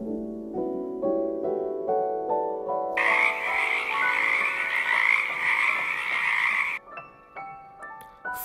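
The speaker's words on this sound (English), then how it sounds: "Frog." A frog croaks in a steady series of calls, close and clear with no voices, the croaks thickening into a dense rasping chorus in the middle before easing off.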